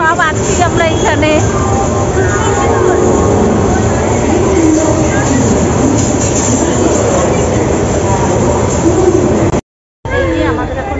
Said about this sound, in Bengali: এই যে আমাদের এখন ট্রেন ছাড়লো